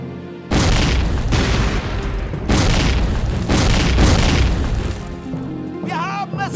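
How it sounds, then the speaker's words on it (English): Anti-personnel grenades exploding at a shooting range in the video game Faces of War, several heavy booms in succession with rumbling tails, followed by a brief voice at the end. "grenades are used to damage enemy personnel."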